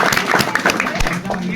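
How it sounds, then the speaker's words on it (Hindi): Audience clapping in a group gathering, a brief burst of moderately close applause mixed with overlapping talk. "अनुज सर के लिए भी ताली बजा दीजिए।"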